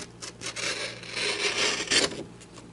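A CRKT Slacker knife blade drags slowly across wood to shave a curl, giving a close, continuous scraping rasp with a few stronger strokes, heard alone.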